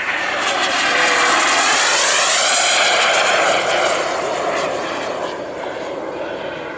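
A jet attack aircraft roars past at the Karlskoga air show in 2013, loud and close, with the engine's rushing noise sweeping in pitch. The roar then slowly fades as the aircraft moves away.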